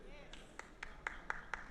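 A faint, slow, evenly spaced run of about six single claps at a church general conference plenary, sparse rather than full applause, heard over low room background.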